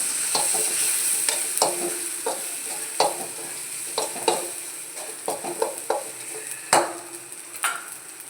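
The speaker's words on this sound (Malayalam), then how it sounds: "എല്ലാം ഇട്ടൊന്ന് നന്നായിട്ട് മിക്സ് ചെയ്ത് കൊടുക്കാം." A spiced mixture with chili powder sizzles in a pan as a spoon stirs it, with scraping strokes at irregular intervals over a constant frying hiss and no voices.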